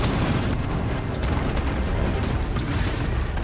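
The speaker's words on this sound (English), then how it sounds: "I heard the Thunderjaw coming in, so I moved back." A Thunderjaw, a huge machine creature from Horizon Zero Dawn, approaching amid dense low rumbling and booming mechanical noise that stays loud and steady throughout, with no voices.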